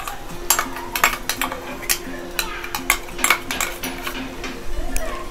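Ground onion, garlic and tomato paste tipped into hot oil and stirred in a pan for a Tamil kara kuzhambu, giving steady sizzling under repeated sharp spoon scrapes and clanks against the metal, with no talk.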